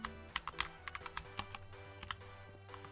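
Fingers tap on a computer keyboard in quick, irregular bursts of crisp clicks, close and fairly quiet, over a low steady background hum.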